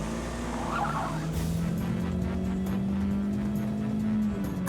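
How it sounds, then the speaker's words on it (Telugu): A cartoon car drives along a road with a steady engine hum, loud and continuous, with a brief whoosh near the start. "రోడ్లో వెళ్ళే కారు ఎగురుతుంది చూడు."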